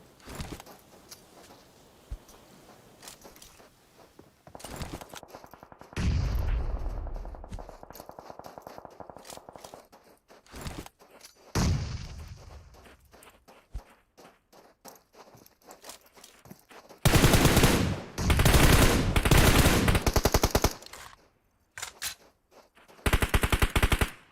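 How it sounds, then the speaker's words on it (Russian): Gunfire in the mobile battle royale game PUBG Mobile, coming from two sides: scattered shots and footsteps early on, then loud sustained automatic bursts near the end, with no talk. "С двух сторон просто стреляют."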